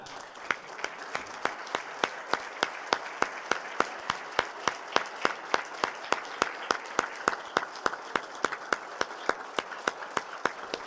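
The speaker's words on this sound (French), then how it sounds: "on se lève et on porte une chaleureuse main d'applaudissement pour ces madames-là." A dinner audience applauds warmly with steady, rhythmic clapping that holds evenly throughout, moderately loud and without talk over it.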